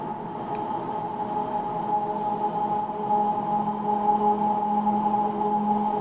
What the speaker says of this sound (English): bumped them up to give it that kind of whistling pad sort of sound